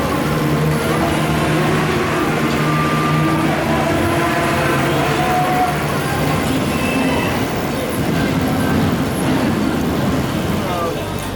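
A train rumbles past with steady, continuous noise and faint squealing tones from the wheels, lasting throughout.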